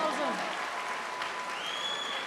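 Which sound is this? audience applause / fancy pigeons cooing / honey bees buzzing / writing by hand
audience applause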